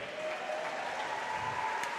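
Steady applause from a crowd in a school gym honoring a senior volleyball player, a continuous mid-distance patter of many hands with faint background voices.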